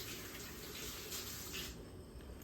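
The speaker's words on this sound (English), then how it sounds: "I'll rinse my hand again." A hand is rinsed under running tap water, giving a steady, close hiss of flowing water that eases off slightly toward the end.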